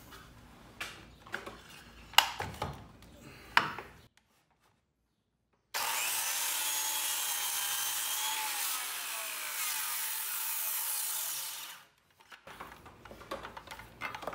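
A power saw cuts through a wooden wall top plate during the demolition of a support wall, a steady loud buzzing cut of about six seconds after a silent pause, framed by clattering thumps of handling and debris.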